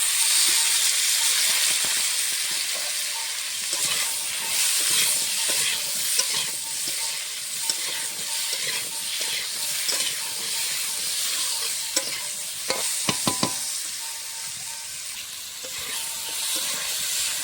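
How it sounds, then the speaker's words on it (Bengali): Rui fish coated in salt and turmeric masala fries in mustard oil, a loud, constant sizzle and hiss with occasional scrapes and taps of a spatula in the pan, no voices. "এটা ভাজা হোক, আমি একটু ভেজে নেব।"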